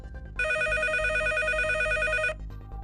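A telephone rings for an incoming call, one steady electronic ring burst lasting about two seconds, loud and close over a faint background hum.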